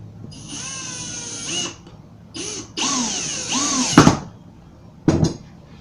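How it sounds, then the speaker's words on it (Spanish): A power drill drives screws to join wooden shelf pieces: several whining bursts that rise and slow in pitch as each screw seats, ending in a ratcheting clutch clatter, loud and close. "procedemos a unir con los tornillos"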